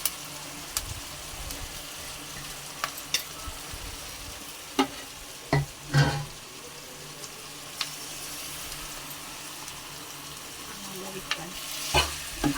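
Marinated fish pieces sizzling in oil while being stirred, a moderate continuous fry punctuated by several sharp scrapes and clinks of a utensil against the pan, close by with no talking.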